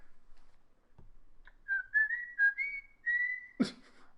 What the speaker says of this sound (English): Flapjack whistle.